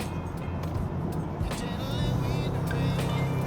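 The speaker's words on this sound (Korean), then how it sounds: "마치 포르쉐나 페라리, 람보르기니처럼 이렇게 엔진음이 우웅 하면서" A Genesis G70 2.5 gasoline turbo engine in Sport Plus mode, a low steady engine drone heard from inside the car that swells a little louder partway through, with someone talking over it.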